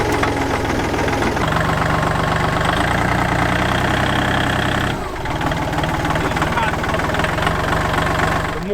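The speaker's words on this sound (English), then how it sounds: "This little Kubota can get in between the trees, so I can creep in, pull tall trees to a central point" A small Kubota 4-wheel drive tractor engine runs close by with a steady, loud diesel chug that drops slightly in pitch partway through, while someone talks over it.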